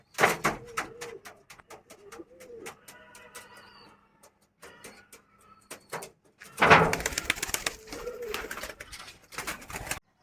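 Soft coos from a single male pigeon repeat under a series of sharp rhythmic clicks and taps, with a louder burst of flapping and clatter midway.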